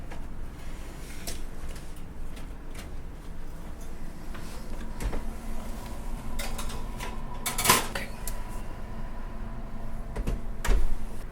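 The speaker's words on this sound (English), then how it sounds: "now I'm gonna put it into the oven." A dish goes into a kitchen oven, with scattered clinks of cookware, a rack or door sliding, and a sharp metallic clatter near the end, all fairly quiet with no talking.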